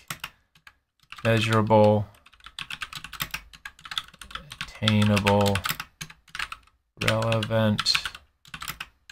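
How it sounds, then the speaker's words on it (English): Rapid clicking of computer keystrokes comes in quick bursts during the pauses between a person's steady spoken words, close and clear. "I'm just typing this out"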